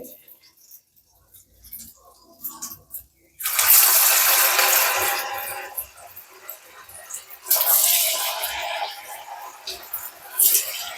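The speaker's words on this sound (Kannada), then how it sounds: "ಎಣ್ಣೆ ಕಾದಿದೆಯಲ್ಲೋ ಅಂತ ಸ್ವಲ್ಪ ಹಾಕಿ ಚೆಕ್ ಮಾಡೋಣ" A little sago vada batter drops into hot oil to test its heat, then more follows. Each drop sets off a bright, hissing sizzle that swells and fades in bursts, with a voice in between.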